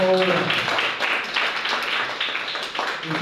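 A church congregation claps together in a dense, continuous patter of hands that holds steady throughout, with a voice briefly heard at the start.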